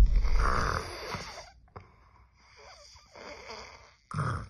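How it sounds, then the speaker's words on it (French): A man snores in bed, loud rasping inhalations followed by quieter breathing, three or four close snores in a quiet room. "Peut-être que je ronfle alors."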